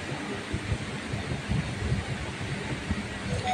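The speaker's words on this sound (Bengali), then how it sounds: "এই মুহূর্তে যে ইএমইউ ট্রেনটি ঢুকছে সেটি হচ্ছে মেমারি লোকাল" An EMU local train arrives at Memari railway station with a steady, loud rolling rumble and rattle of wheels that fills the whole stretch.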